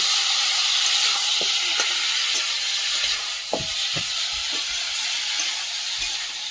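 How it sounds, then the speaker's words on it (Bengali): Potatoes and cauliflower sizzle in hot spice paste in a pan, a steady close broadband fry with a few soft knocks and stirring clicks, no voices. "মশলাটা ভেজে নেবো ভালো করে। এবার আলুগুলো দিয়ে দেবো, ফুলকপিগুলো দিয়ে দেবো।"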